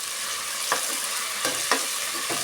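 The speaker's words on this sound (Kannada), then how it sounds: "ಶುಂಠಿ ಬೆಳ್ಳುಳ್ಳಿ ಪೇಸ್ಟು ಹಸಿ ಸ್ಮೆಲ್ಲೆಲ್ಲ ಕಡಿಮೆ ಆಗೋ ತನಕ ಈ ಥರ ಫ್ರೈ ಮಾಡ್ಕೊಳ್ಳೋಣ." Ginger garlic paste frying in a pan for ghee rice, a steady close sizzle with a few sharp scrapes of a stirring spoon, no voices.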